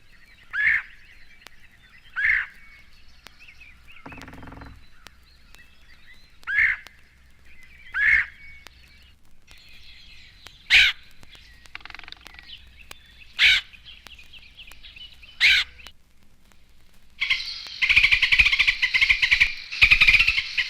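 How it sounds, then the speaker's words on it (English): Red-headed woodpecker giving repeated harsh, chattering calls, evenly spaced bursts recurring every couple of seconds, clear and fairly close, ending with a denser, louder run of raspy notes. "The handsome red-headed woodpecker is a mischievous chatterbox."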